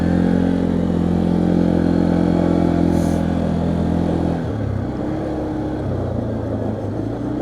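A 2015 Arctic Cat 500 EFI 4x4 ATV drones loudly and steadily while driving on a paved road, its engine pitch dropping at a gear shift midway and then holding a rougher, lower hum.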